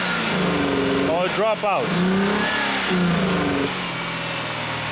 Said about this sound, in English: I was increasing the engine RPMs